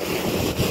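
Ocean waves wash at the seaside under heavy wind buffeting on the microphone, a brief, loud, continuous roar with no talking.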